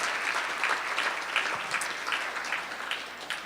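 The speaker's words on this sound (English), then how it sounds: "Please join me in offering an appreciative round of applause to the Don Sterling City Club Fund of the Oregon Community Foundation." A luncheon audience at a City Club event claps in appreciation, a dense, sustained wash of many hands at moderate distance, holding steady throughout.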